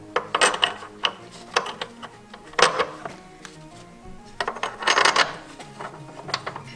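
Ratchet turning engine mount bolts on a VW 1.4 80 PS engine during a timing belt and water pump job, heard as quick bursts of metallic clicking with short pauses and clinks between them, close and unaccompanied by speech.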